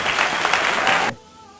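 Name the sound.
applause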